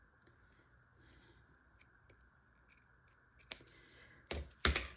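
Scissors snipping paper for a junk journal project, quiet sparse clicks and cuts building to a few louder, close snips near the end, with no talking.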